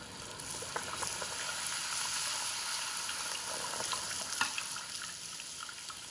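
Puri dough frying in hot oil, with a steady soft sizzling hiss and small bubbling crackles throughout, fairly quiet and close, with no talking.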